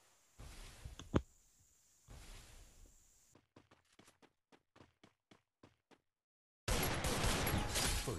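Desert Eagle pistol shots ring out in a one-on-one custom video game match, a string of sharp, evenly spaced cracks after some muffled rustling, followed by a dense burst of noise.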